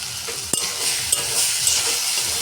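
Vegetable peels being stirred with spices and ground cumin in a pan, a steady sizzling frying hiss with a few sharp clinks of a spoon against the pan, close and alone.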